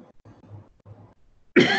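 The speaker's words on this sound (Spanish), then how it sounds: "Ya me dio tos." A woman's cough, one harsh loud burst at the end after some quiet speech-like murmur.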